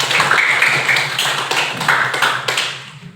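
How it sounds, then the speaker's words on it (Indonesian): A group at a school environmental-education session claps together, a brisk burst of loud, close hand claps that keeps going for about three seconds before tapering off. "Tepuk tangan."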